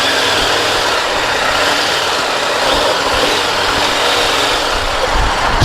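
A KTM 1190 Adventure motorcycle engine on a test ride, a loud continuous roar with rushing wind noise, holding steady throughout without voices.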